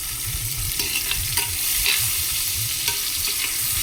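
Tomatoes sautéing in a pan give a steady, close sizzle with faint scraping stirs, a continuous frying hiss with no voices.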